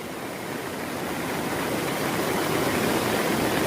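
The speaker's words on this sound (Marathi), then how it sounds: "हे बघू शकता एकदम फास्ट मध्ये पाऊस चालू आहे ना" Heavy rain pours down on a mountain ghat road, with someone standing under an umbrella: a dense, steady hiss that builds slightly and holds, loud and close, with no talking.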